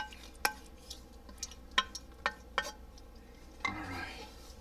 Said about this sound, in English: See if we can scrape all that out.